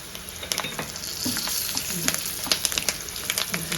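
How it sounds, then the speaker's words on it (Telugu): Moringa leaves fry as a tempering in a pan, giving a steady close crackling sizzle with scattered sharp pops and spatters throughout, no voices over it. "ఇదంతా బాగా వేగల్లా"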